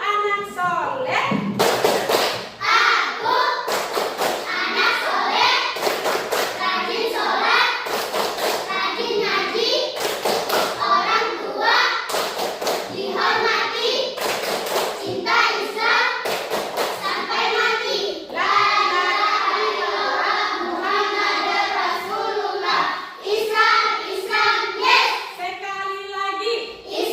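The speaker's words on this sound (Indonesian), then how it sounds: "kita tepuk anak soleh" Children clap in rhythmic bursts for the 'tepuk anak soleh' clapping chant in a classroom, chanting along between sharp clusters of claps, with a teacher's voice leading; loud, close and repeating throughout.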